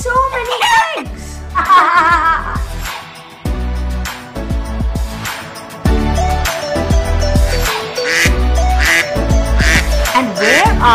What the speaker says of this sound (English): And where are these ducks going?